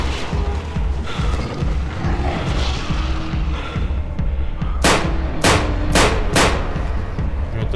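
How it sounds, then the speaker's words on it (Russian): Four sharp pistol shots from a TT handgun in the 35mm video game, fired at a bear, ring out loud and close in quick succession over a steady low engine rumble. "он с четырех выстрелов убил медведя из ТТшника"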